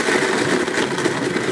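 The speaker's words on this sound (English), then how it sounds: "And then I blend that in this BlendTec blender on smoothie twice." A Blendtec blender on its smoothie setting blends soaked almonds in water, a loud, steady whirring roar that holds level throughout and cuts off abruptly at the end.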